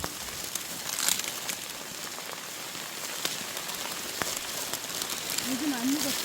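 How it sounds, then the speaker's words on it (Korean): Heavy rain falls steadily on surfaces at a rural farm plot during a corn harvest, a continuous close hiss and patter running throughout, with a few brief distant voices. "비 많이 온다"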